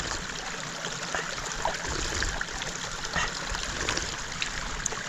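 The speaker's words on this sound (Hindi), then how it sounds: "ये रहा पानी का गधेरा और ये रहा भाई पानी।" A mountain stream runs through jungle, water trickling and gurgling steadily over rocks at close range, with a continuous bubbling wash and no talking.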